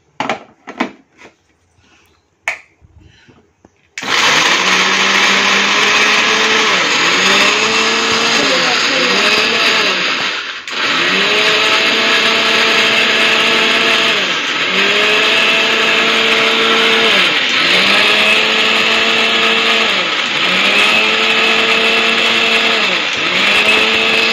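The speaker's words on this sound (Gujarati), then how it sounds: "બધા મરચાં છે ને આ મિક્સરમાં આવે એનું ગ્રેવી કરી નાખીએ" After a few clicks and knocks, an electric mixer grinder roars to life grinding chilies into a paste, running loudly for a long stretch, its motor pitch repeatedly dipping and surging.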